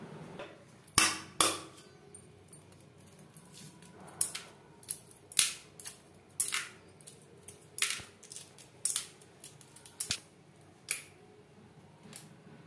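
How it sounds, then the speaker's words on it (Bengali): Shells being cracked and peeled off cooled boiled eggs: a dozen or so sharp, close crackling snaps at irregular intervals over quiet background. "এবার আমি ডিমের থেকে খোসা ছাড়িয়ে নেব।"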